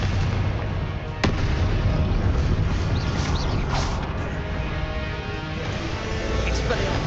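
Confringo blasting-spell explosions in the Hogwarts Legacy video game, a sharp blast near the start followed by dense, continuous rumbling game noise and effects, loud throughout.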